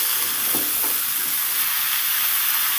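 Papaya, potato and carrot pieces fry together in a pan, giving a steady, broad sizzling hiss throughout with a few soft stirring scrapes near the start.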